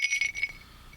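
An old ornate metal thimble bell dug up metal detecting gives a few quick, bright rings close up, tinkling twice in short succession before fading into quiet.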